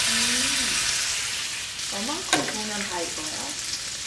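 A salmon steak sizzles in a pan with a steady, bright hiss throughout, broken by a few short squeaky tonal sounds and one sharp crackle midway.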